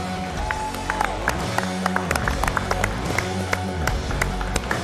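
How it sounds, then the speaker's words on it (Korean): Applause and cheering from a studio audience at a Korean ssireum wrestling match, a continuous dense wash of clapping with sharp claps standing out, while announcers' voices and music run underneath. "다시 한번 박수를 부탁드리겠습니다."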